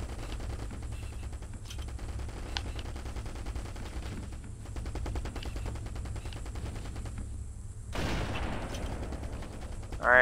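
Rapid bursts of automatic gunfire in the Halo CE demo Digsite mod, emptying a weapon's ammo in long rattling volleys with brief gaps, loud and close, ending in a sharp louder burst.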